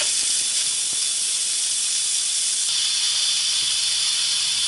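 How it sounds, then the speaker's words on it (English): Steady, loud hiss of steam venting from an Instant Pot Ultra pressure cooker on quick release during a water test, continuous and close with no talking. "let's do a quick release, and we're going to press the button to let out the steam"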